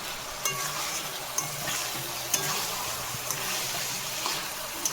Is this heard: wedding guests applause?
no